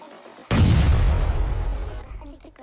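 Gunshot in a mobile shooter video game, a single loud, booming report that hits suddenly and rolls off with a long, rumbling decay over a couple of seconds.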